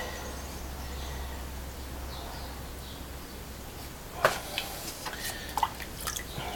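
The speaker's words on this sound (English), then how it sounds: "I'm working fast now with my fingers to smear that piece of clay over that cutout that I did" Fingers smear wet clay over a cutout on a pottery piece, making faint squishy, wet dabbing sounds that grow into a few soft smacks toward the end, close up and without talk.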